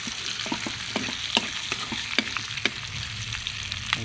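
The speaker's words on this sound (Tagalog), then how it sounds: "Ginagalaw po yung kawali na." Pork kaldereta with string beans is stirred in a frying pan, a steady close sizzle of frying with repeated scraping and stirring clinks running throughout, no voices.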